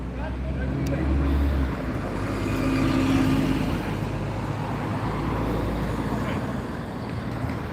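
Buses passing along a road in Gloucester, a steady broadband roadway rumble with engine drone swelling and fading, wind buffeting the microphone, heard from the roadside.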